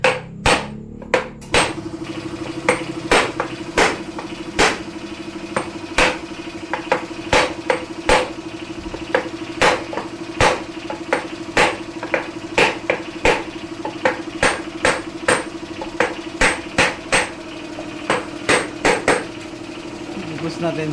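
Repeated hammer blows on a damaged motorcycle engine, sharp metallic strikes landing at an irregular steady pace, close and loud, with a low hum underneath.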